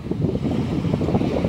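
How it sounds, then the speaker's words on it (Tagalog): Waves wash in at a beach by the sea under a steady buffeting of wind, a close, rumbling surge with no voices. "Nandito tayo sa beach."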